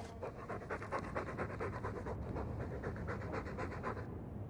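Dog panting in the video game Dragon Age II, heavy, rapid and rhythmic breathing held close and steady for several seconds over a low ambient hum, with no talk.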